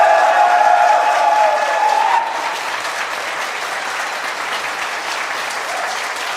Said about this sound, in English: let's give a round of applause for everybody who made this happen